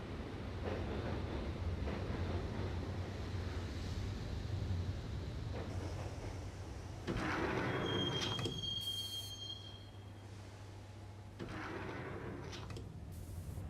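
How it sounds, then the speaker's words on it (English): A subway train rides along the tracks in the video game Max Payne, with a continuous rumble of wheels on rail, rattling carriages and a brief metallic squeal midway. "the train doors had already shut behind me, and I was in for the ride"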